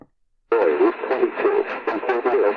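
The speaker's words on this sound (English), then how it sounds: "Good music playing there. CHHA, Toronto, Ontario, does not disappoint." Music received from medium wave station CHHA Toronto on a Sangean ATS-909X portable radio at night, heard from about 460 miles away, with a thin, band-limited AM tone that plays steadily and fairly loudly after half a second of silence.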